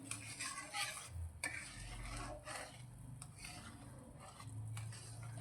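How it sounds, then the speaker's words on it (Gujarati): Sugar syrup for mohanthal, a Gujarati gram-flour sweet, simmers in a pan, soft bubbling and sizzling mixed with repeated scraping and stirring sounds, quiet and close. "તો ફરી તેને આપણે બે મિનિટ માટે ઉકળવા દઈશું"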